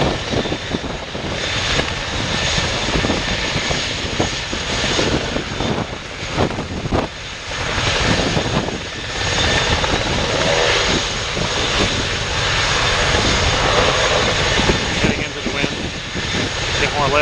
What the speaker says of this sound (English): Next off is the medevac.